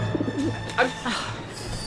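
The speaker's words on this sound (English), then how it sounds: "How am I supposed to get rid of that pigeon?" A pigeon coos close by in the video game Syberia: The World Before, a few soft low throaty calls over a steady background hum.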